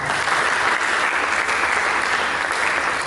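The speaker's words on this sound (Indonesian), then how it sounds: "Mari kita berikan tepuk tangan." A church congregation applauds in steady, dense clapping that holds at an even level for the whole stretch, with no voices on top.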